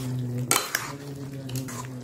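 Mustard, poppy seed, white sesame and green chilli paste being stirred into ridge gourd and summer vegetables in a pan, with two quick metal spatula clanks against the pan over a steady low kitchen hum.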